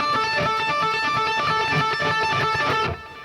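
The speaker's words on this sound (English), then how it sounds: "I do a little hybrid picking thing" An electric guitar plays a quick lick using hybrid picking, a run of bright, clearly separated plucked notes in a fast rhythm, close and alone, ending abruptly.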